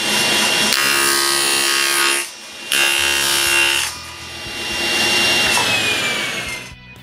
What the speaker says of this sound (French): Je les coupe égales à la base maintenant.